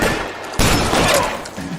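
Gunfire from a shootout in the 2011 video game LA Noire, a sudden loud burst of shots after a quieter opening, with further thuds and reports trailing off.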